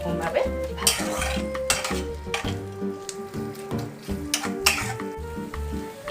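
Chopped onion and ginger-garlic paste sizzle in a pan for a chicken curry while a metal spatula scrapes and clanks in repeated strokes, with steady music playing underneath.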